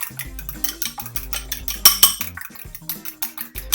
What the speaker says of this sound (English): beat our eggs together